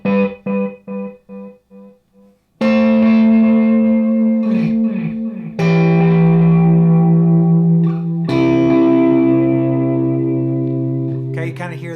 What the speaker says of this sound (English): So the Memory Man is set up with, it's got some like mod on it. A little darker sounding.